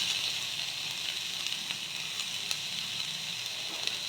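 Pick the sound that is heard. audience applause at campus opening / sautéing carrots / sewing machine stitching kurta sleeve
sautéing carrots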